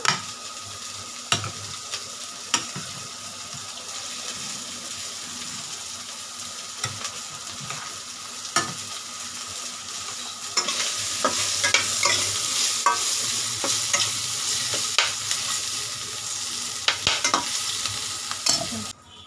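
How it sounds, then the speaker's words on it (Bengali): Onions sizzle in a frying pan while being stirred, a steady close crackle that grows louder partway through, punctuated by repeated scrapes and taps of the spoon, no speech. "পেঁয়াজটা দেখো আমার ভাজা ভাজা হয়ে এসছে"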